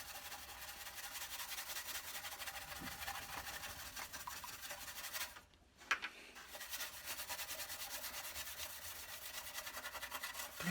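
Steady abrasive rubbing scrapes rust off the metal of a 1950s vintage draughtsman's desk lamp, a continuous close scratchy texture with one brief pause midway.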